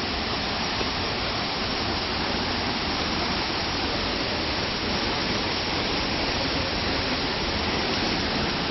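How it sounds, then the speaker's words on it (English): The waterfall at Edessa, Greece pours in a dense, constant roar of rushing water, loud and close, without pause or voices. "now we're going to go down and walk underneath the waterfall"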